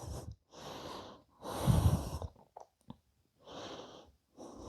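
Deep, audible breaths in and out while curled into a compact ball during a yoga session, several slow cycles with short pauses between them, close and fairly quiet with no talking.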